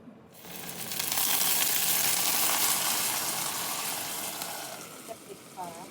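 Pan-fried gyoza sizzle hard in a hot pan right after a little water is poured in, a loud hissing burst that settles into steady crackling, with a few faint tones near the end.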